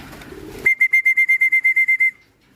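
A person whistles to call pigeons, giving a quick run of about twelve sharp, evenly spaced high whistle pips after a brief rustle, loud and close, then stops abruptly.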